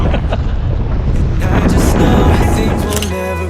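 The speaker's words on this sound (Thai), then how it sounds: "ลมแรงมาก" Strong, cold, dry wind buffets the microphone outdoors in Las Vegas, Nevada, producing a loud, continuous roaring rumble that swells and gusts throughout.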